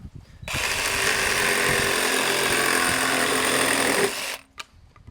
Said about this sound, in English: you also have the reciprocating saw, which is part of the set